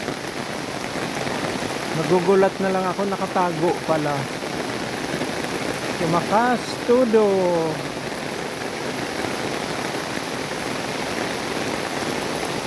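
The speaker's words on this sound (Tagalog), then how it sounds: "Yan, lumakas ang ulan." Steady heavy rain hisses throughout, with a person talking over it in the middle section.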